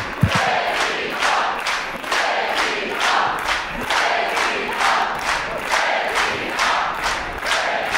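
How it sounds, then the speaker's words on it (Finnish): Loud, dense crowd noise fills a Finnish arena after a 2023 competition match, a steady roar of cheering and shouting with rhythmic surges, as if chanting, plus a thud near the start. "Annetaan tämän yleisön metelin puhua puolestaan."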